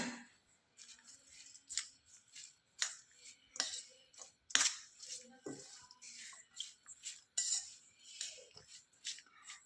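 Fenugreek salad ingredients with red chili powder and salt being mixed together in a bowl, giving a run of light clinks, scrapes and soft taps at an uneven rhythm, close and fairly quiet, with no talking.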